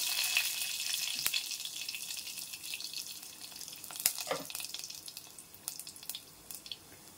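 Cinnamon, cloves, fennel seeds and bay leaf frying in hot oil in a pan on a stove, giving a steady close sizzle and crackle with a few sharp pops.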